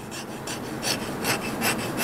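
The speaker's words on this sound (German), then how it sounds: "Während in der Werkshalle längst Feierabend ist, feilt der Chef noch an einem Leisten." A wooden shoe last hand-filed in a shoe factory workshop. Rough rasping strokes repeat at a steady rhythm of roughly two or three per second over a constant background hiss.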